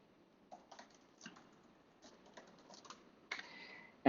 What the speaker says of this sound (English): I will type in the simple command, AWS sts get caller